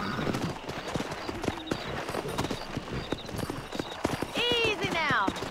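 Horse hooves clip-clop steadily through a Red Dead Redemption game scene with people talking over them, ending in a loud, close neigh near the end.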